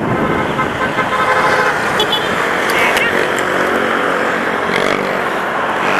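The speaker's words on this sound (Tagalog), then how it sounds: "na tingnan ko yung busina" A car horn toots a few times amid steady road traffic noise, with people talking close by.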